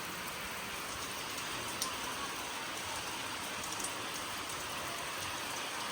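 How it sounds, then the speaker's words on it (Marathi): Steady rain falls in a village, an even, dense hiss of drops on surfaces that holds constant throughout, with a few brief louder patters and no voices. "पाऊस येते म्हणून जरा"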